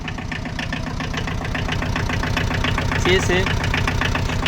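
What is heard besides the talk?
Tata Ace 2007 mini truck engine idling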